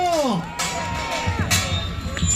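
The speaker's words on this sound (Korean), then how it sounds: "큰 성원의 박수 보내주시기 바랍니다." A crowd at an outdoor political rally in front of the Seoul Central District Court cheers. Rising and falling shouts and whoops sit over a busy crowd murmur, with a few sharper bursts of noise.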